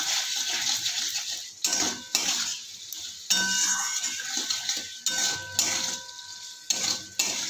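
Potatoes and spices sautéing in a pan: a spatula scrapes and clinks against the metal in rhythmic strokes over a moderate sizzle, with short pauses between bursts.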